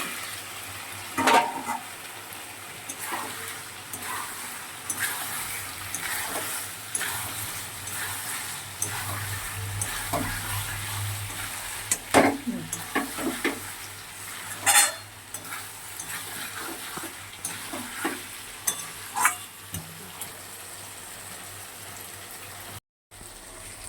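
Boiled potatoes fry in a hot pan for a creamy aloo dum, with a steady soft sizzle broken by repeated scraping stirs at irregular moments; no one talks.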